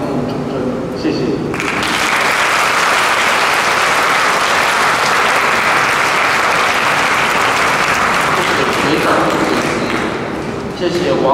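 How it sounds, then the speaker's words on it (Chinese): At a Fu Jen High School 54th anniversary ceremony honoring distinguished alumni, a large audience breaks into loud, sustained applause for an alumnus speaker, the clapping swelling suddenly after brief talk and holding steady before easing. "再让我们用最热烈的掌声给予王水生学长"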